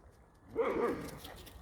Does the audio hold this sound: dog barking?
yes